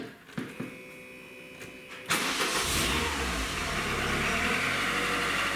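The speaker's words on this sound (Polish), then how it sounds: "Startuje tylko z gazem i obroty ma na 1100." A VW Polo 6N engine with an idle fault cranks after a few light clicks, then catches and runs on throttle, settling into a loud, steady raised idle up close.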